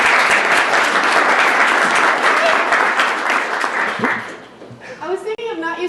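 An audience applauds at a game developers' presentation, a dense, loud wash of clapping that fades after about four seconds, followed by a person talking.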